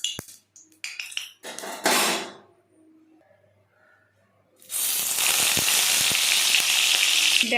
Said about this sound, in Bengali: দেখো, এখানে আমি অল্প অল্প করে বেগুন দিয়ে বেগুনগুলোকে ভেজে নিচ্ছি